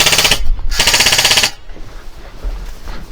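Airsoft guns fire in rapid automatic bursts, two long loud volleys close by separated by a short gap, then quieter scattered activity with faint low thumps.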